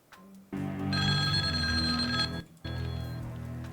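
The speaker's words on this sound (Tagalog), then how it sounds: "Sarge, telepono." An electronic telephone rings in two bursts separated by a short pause, clear and fairly close.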